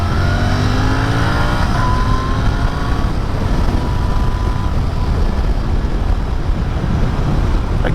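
A Royal Enfield Continental GT650 motorcycle engine decelerating while riding: a loud, continuous engine drone with falling pitch and steady road and wind rush for about eight seconds, with no talking.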